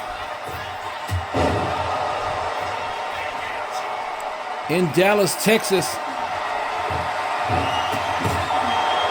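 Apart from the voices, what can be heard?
arena crowd cheering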